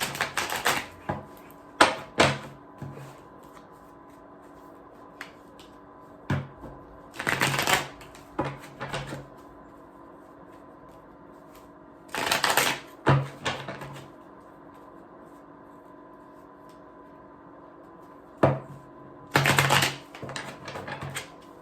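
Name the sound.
shuffling and pulling tarot cards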